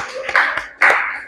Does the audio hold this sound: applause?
yes